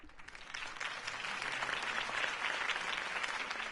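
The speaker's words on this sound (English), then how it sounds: "If only Mr. Wayne, my campaign's largest backer, could have heard that applause" Steady applause from a large crowd in the video game Telltale Batman, a dense wash of clapping that holds at an even level throughout.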